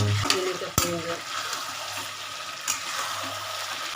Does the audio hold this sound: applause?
no